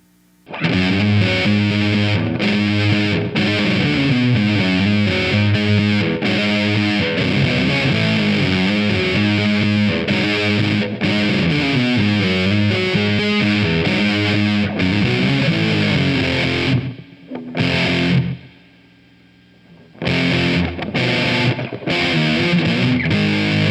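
A loud, heavily distorted electric guitar riff through a fuzz pedal chugs and repeats steadily, thick fuzzy tone throughout, with a couple of brief pauses near the end.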